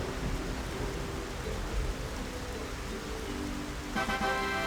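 Rain falling in the video game Xenoblade Chronicles, a constant rushing hiss with a deep rumbling undertone, steady and even, with a faint bright musical tone entering near the end.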